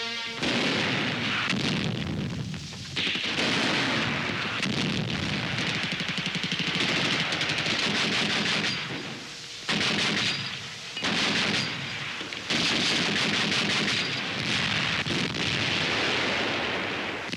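Loud, sustained wartime gunfire and artillery fire from a newsreel battle, with dense bursts and booming blasts that run almost continuously and break off in a few short pauses.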